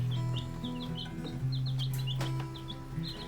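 Baby barred rock chicks peep in a warm brooder, with scattered high chirps over a low steady hum and faint background noise.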